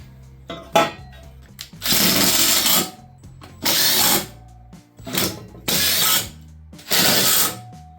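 A power driver runs screws back into the covers on a Country Clipper zero-turn mower after a blade belt replacement, sounding as several separate whirring bursts of about a second each with clicks and handling noise between them.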